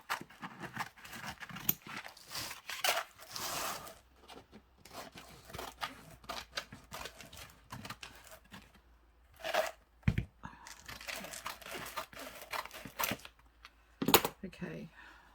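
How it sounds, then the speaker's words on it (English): Scissors snip roughly through wallpaper, cutting out a shape for shabby chic ephemera; close, irregular bursts of crisp cutting and paper rustle separated by short pauses. "now I'll cut it roughly"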